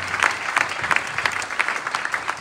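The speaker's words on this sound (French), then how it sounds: "Acclamons très fort le Seigneur." A church congregation claps enthusiastically during a worship service, a dense, loud burst of applause with rapid overlapping claps and a faint murmur of voices mixed in.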